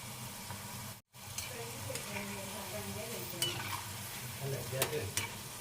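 Ragi onion pakoda fries in hot oil with a steady crackling sizzle as a utensil turns the pieces, giving occasional clinks and stirring scrapes, heard close and without talk.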